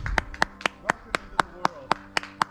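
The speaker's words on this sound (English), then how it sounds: "Can we get a round of applause for the fresh hatch of black flies?" A small group of people at a wilderness camp clap in a short burst, about ten crisp, evenly spaced hand claps heard up close.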